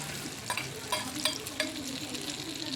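An omelette cooking in an iron pan on high flame gives a soft, steady sizzle, with a few light scraping strokes of a spatula standing out against it.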